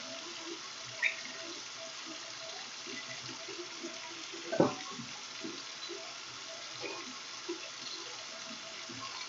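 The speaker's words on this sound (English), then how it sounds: "Then I'm going to wash my thumbs." Steady running water from a tap while thumbs are washed during handwashing, a soft constant hiss close by with a couple of brief splashes or knocks.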